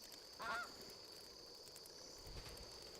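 A bird in the Final Fantasy XVI game gives one loud close honk, like a goose, then a lower, softer call follows over a steady electronic hum.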